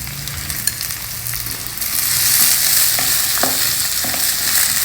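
Chopped onions frying in a pan for a green pulao make a loud, close, steady sizzle, with light stirring scrapes and a brief clatter partway through.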